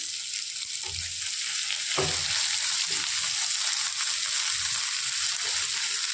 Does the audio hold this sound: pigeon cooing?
no